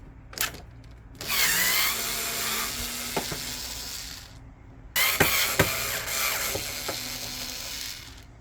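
A bolt is loosened on a faulty ice maker machine whose tray keeps moving, in two bursts of buzzing power-driver whir with ratcheting clicks and small knocks, close and fairly quiet, with short silent gaps between.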